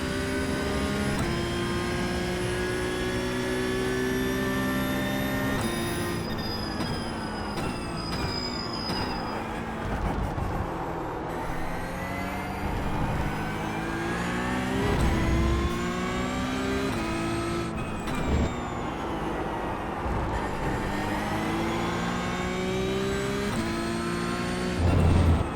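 A Porsche Cup race car lapping Laguna Seca in the iRacing simulator, its engine screaming loud and close, rising through gears with sharp shifts and dropping under braking, no talk.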